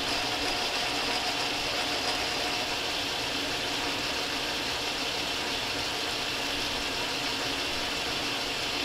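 A lathe single-point cutting a thread gives a steady, even mechanical whir and hum of the running machine, continuous and moderately loud with no talking.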